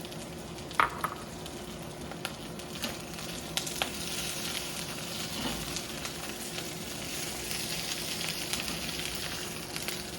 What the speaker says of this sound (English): put in some cherry tomatoes, just for a little bit of umami